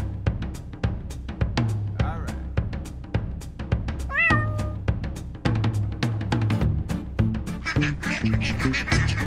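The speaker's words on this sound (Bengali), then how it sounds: "এক গ্রামে ছিল এক দুষ্ট বিড়াল, নাম তার মিঠুন।" A mischievous cartoon cat in a village meows near ducks by a pond. Several meows and quacks stand out over a steady, rhythmic backdrop, with no talking.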